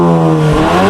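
A Volkswagen GTI fitted with an Integrated Engineering sport muffler revs hard close by, a loud steady exhaust drone that climbs in pitch partway through the short burst.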